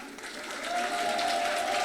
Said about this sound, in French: on applaudit, on applaudit